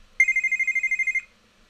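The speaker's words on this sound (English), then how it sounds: "Let's unmute this preview and try simply phone ring." A phone ring sound effect plays alone: a rapid, evenly pulsed electronic trill lasting about a second, clear and loud against silence, then cutting off cleanly.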